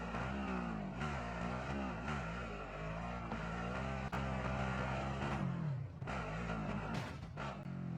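A vehicle engine drones steadily in the Warzone video game, rising and falling in pitch as it accelerates, with a couple of brief clunks, heard close and alone.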